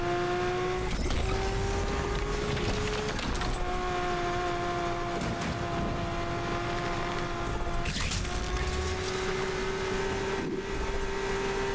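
A 2019 Lamborghini Aventador SVJ Roadster drives hard in Need for Speed Unbound, its engine droning steadily at high revs with pitch climbing through gear changes, loud and continuous with no talk.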